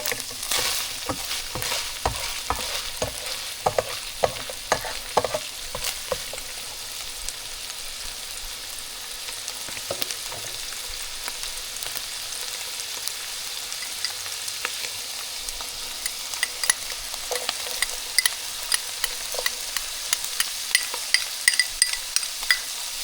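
Onion fries alongside browned beef for Tex-Mex burritos, giving a continuous crackling sizzle in the pan, punctuated by frequent clicks and scrapes of a utensil stirring against the pan.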